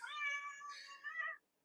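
A cat meows in a drawn-out, wavering cry that rises and dips over about a second and a half while it is being held, close and fairly loud, then falls silent.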